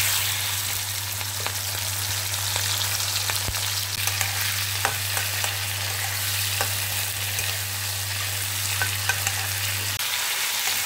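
Potato, tomato and green chili fry in hot oil for a fish curry, a loud, even sizzle held close for about ten seconds, with light stirring clicks and a low steady hum that stops near the end.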